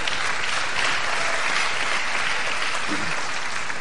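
Audience applause fills the room in a steady, dense wash of clapping that holds at even loudness throughout, close and continuous.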